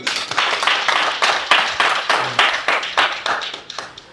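Church congregation clapping to acclaim Jesus Christ: loud, close rhythmic hand claps in an even beat of about three per second, sustained without talk.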